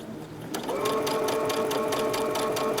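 A sewing machine stitches across quilt fabric seams for a Dutchman's Puzzle block, its steady fast whirring running continuously and close up after a brief quieter start.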